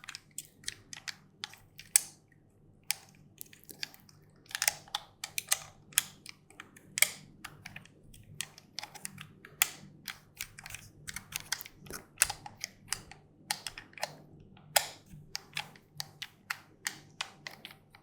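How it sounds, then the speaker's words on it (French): Rapid, irregular clicking taps like computer keyboard keys being struck, crisp and close, continuing steadily over a faint low hum. "Ça fait un peu penser à un clavier en fait, mais enfin des bruits de touche"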